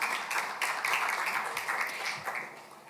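Applause from a conference audience at an international participatory-democracy event in a hall, a steady patter of many hands clapping at moderate volume that tapers off slightly toward the end.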